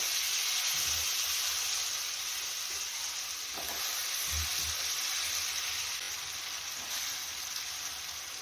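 Washed potato and cauliflower pieces sizzling in a hot pan for a potato curry, a loud continuous hiss of frying with occasional stirring knocks, heard alone.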